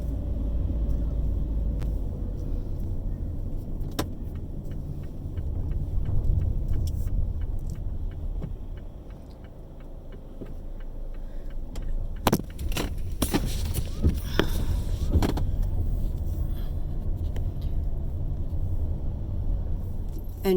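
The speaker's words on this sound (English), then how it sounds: "So I'm driving down my street on my way to the park and ride at Hibiscus." A car driving down a suburban street, steady low engine and road rumble from inside the vehicle, with some clicks and knocks partway through and no talk.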